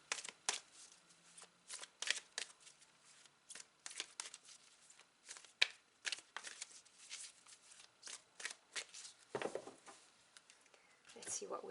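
Oracle cards shuffled for a tarot reading, a quick papery riffling and flicking in dense bursts, close and soft, with occasional card slaps as one card is drawn.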